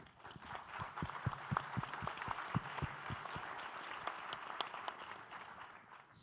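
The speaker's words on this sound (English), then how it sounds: "she deserves all applause" Audience applause at a World Forum for Global Markets climate-action panel, a steady crowd of clapping with scattered sharper claps, sustained and moderately loud, fading slightly near the end.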